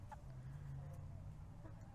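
Soft, scattered clucking from a few chickens in a movable chicken tractor in a yard, over a steady low hum, fairly quiet and somewhat distant.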